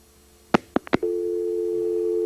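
Telephone tone on a failed call-in attempt during a 1996 radio broadcast: a few short clicks and pulses, then a loud steady tone holding alone to the end.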